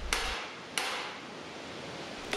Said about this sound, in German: So trifft der Hammer das Blech außerhalb des Fäustlings.